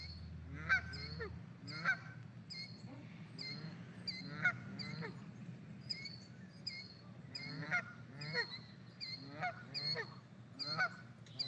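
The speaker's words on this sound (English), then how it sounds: "that sound was of different birds that live here at Tule Ponds." Repeated honking calls from geese and other waterfowl at a pond, overlapping in an irregular rhythm, moderately close with a quiet outdoor background.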